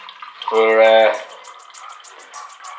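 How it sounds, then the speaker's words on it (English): Cider is poured into a glass in a brief liquid splash and trickle, starting with a short burst of talk, then a softer stream with light intermittent clinks. "I think I'm just going to pour me some cider"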